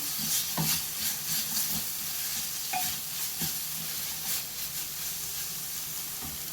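Chicken filling with chilli flakes being stirred in a pan, the spoon scraping in scattered strokes over a steady soft sizzle, close and fairly quiet.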